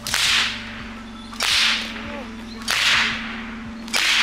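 Three loud, sharp cracks of a whip lashing a heavy 18-jin (9 kg) spinning top land at steady intervals of about one and a half seconds, with a low humming drone underneath, near and forceful.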